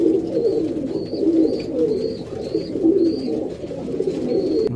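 Racing pigeons coo up close in a rhythmic series of soft, throaty calls, repeating about once a second over a dense murmur of more cooing birds.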